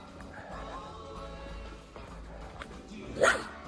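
A dog on a park hiking trail gives a short, sharp bark close by near the end, over steady outdoor rumble and footsteps.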